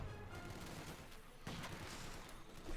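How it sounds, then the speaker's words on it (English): Distant MG42 machine gun fire from the Company of Heroes 2 strategy game: a faint, continuous rattling burst under a dense battle background, with no voice over it. "Engineers are likely going to get wiped out here by the MG42"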